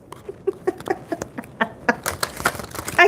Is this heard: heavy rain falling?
yes